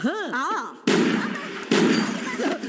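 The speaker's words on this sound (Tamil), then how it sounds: "ஏசிபி துப்பாக்கியை கையில் எடுத்து சட்டத்திற்குட்பட்டு மேலே ஒரு ரவுண்டு கீழே ஒரு ரவுண்டு தற்காப்புக்காக அழகாக சுட்டார்" Pistol fired by a police ACP in a Tamil film fight scene from Motta Shiva Ketta Shiva, one round upward and one downward: two sudden loud bangs about a second apart, each with a long noisy decay, after a brief wavering tonal sound.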